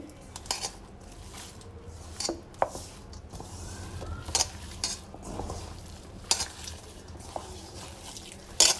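Chutney kabab mixture is stirred and mixed in a pot, with a spoon scraping and clinking against the metal in irregular strokes and soft sizzling underneath, close and fairly quiet.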